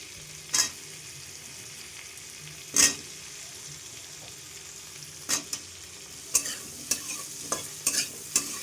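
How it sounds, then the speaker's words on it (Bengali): Diced potatoes frying in oil with onion, chilli and tomato simmer under a low sizzle, while a spatula scrapes and stirs the pan in sharp, irregular strokes that come closer together toward the end. "কিছুক্ষণ ভাজা ভাজা করে নেব।"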